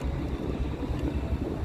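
Ferry crossing at Guaratuba, with a steady low engine rumble and wind buffeting the microphone throughout, loud and continuous with no voices.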